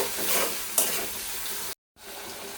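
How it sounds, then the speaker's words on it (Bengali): Turmeric, coriander and cumin powders stir-fry in hot oil in a pan, a close, steady sizzle with scraping stirs and a brief sharper hiss, cut by a short silent gap before the frying resumes. "আমি মশলাগুলোকে অনেক ভালোভাবে কষিয়ে নিছি"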